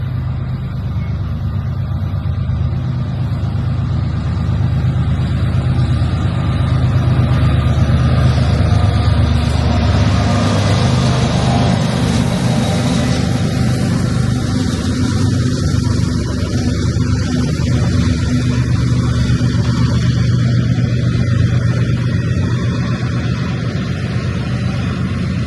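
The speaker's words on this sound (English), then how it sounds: "we got a freight train coming up." A long freight train rolls past at a rail crossing area, a loud, sustained low rumble that swells toward the middle and stays heavy throughout, with no talking.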